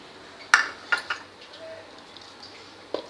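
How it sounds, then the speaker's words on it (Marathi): A lid set onto a kitchen pot holding dough, a sharp metallic clank followed by a couple of lighter clinks and a final tap, close and clear in a quiet kitchen. "आता आपण हे झाकून ठेवूया"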